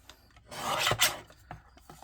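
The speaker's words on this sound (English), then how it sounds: "gonna cut my guillotine, try to get it as close to this point and make a straight line, trying to cut off all the pink from the white" A paper guillotine trimmer blade slices through pink and white cardstock in one short, close, scraping rasp that rises and then fades, with faint handling noises before and after.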